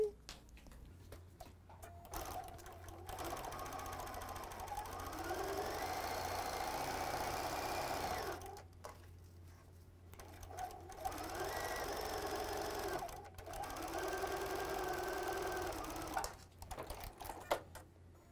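A sewing machine stitches fabric for a quilted table runner, whirring in two long runs separated by short pauses, close and fairly loud, with brief stops and restarts.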